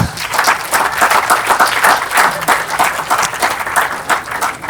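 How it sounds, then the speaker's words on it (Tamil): Audience applause at an inspiring interaction event, a full sustained burst of many hands clapping, steady and fairly loud throughout with faint crowd murmur underneath. "அவருக்காக ஒரு கைத்தட்டு கொடுங்க"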